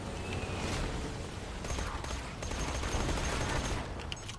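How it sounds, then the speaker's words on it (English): Rapid volley of rocket blasts and explosions from an RPG loader enemy in Borderlands 2, a dense, continuous barrage of booms and crackling impacts with no pauses. "He's just shooting like a volley of rockets at me."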